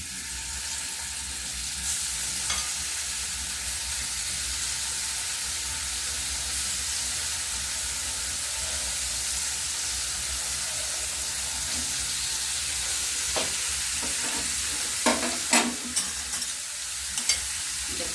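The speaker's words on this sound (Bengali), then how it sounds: "তেল গরম হয়ে গেছে পনির টুকরোগুলো আমি দিয়ে দেবো" Pieces of paneer fry in hot oil with a steady, dense sizzle throughout, close and loud, with a few sharper crackles and scraping stirs near the end.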